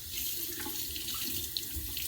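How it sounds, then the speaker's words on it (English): A bathroom sink tap runs steadily for a cold water rinse after a wet shave, a continuous close splashing stream with no pauses. "I just did that cold water rinse"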